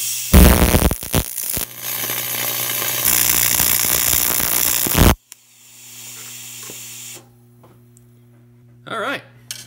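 A TIG welder running on a CO2 and argon gas mix on aluminum sputters with a loud, harsh, crackling buzz for about five seconds. It then cuts off abruptly and leaves a low, steady machine hum.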